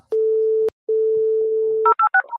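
Long steady electronic tones broken by a short gap, then a quick run of higher chirping tones, like a dial-up internet modem connecting over a home phone line; loud and clear with no talk.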